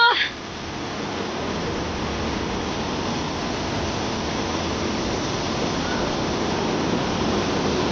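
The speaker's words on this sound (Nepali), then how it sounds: "खोला बढिरहेको रहेछ" A swollen river rushes near Indreni waterfall, a broad, steady roar of flowing water filling the scene without break, loud and close.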